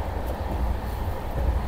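Kanchankanya Express running between Alipurduar Junction and Aluabari Road, a steady low rumble of wheels and carriage noise heard from onboard, continuous and fairly loud with no talk.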